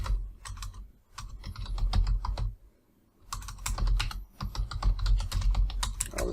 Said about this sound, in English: I am having a trouble typing today